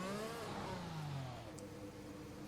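Racing car in a racing video game at the Jeddah circuit, its engine note falling as it downshifts to second gear. A loud, close, continuous engine whine glides downward, then settles into a steady lower drone.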